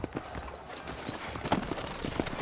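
Horse hooves clip-clop at an unhurried pace in the Western video game Red Dead Redemption, a series of irregular soft thuds over a quiet background hum.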